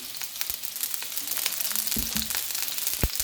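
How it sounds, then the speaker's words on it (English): Garlic fries in a pan with a steady close sizzle and crackle, plus a few brief clinks of stirring. "So now we've got the garlic to cook."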